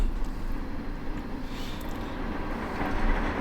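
A low-floor tram arrives at a stop near Poznań Główny station with a low rumble and faint rail clatter, its steady mechanical drone close by and without speech.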